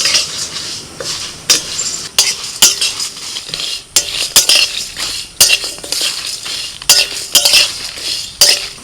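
Whole spices dry-roasting in a metal pan for homemade masala, stirred with a spoon that clinks and scrapes repeatedly against the pan in an uneven close rhythm.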